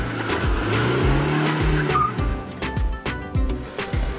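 A Mahindra Scorpio pushes fast through deep mud off-road, its engine roaring steadily up close while tires spin and squeal, with repeated sharp thumps and splashes as the wheels churn.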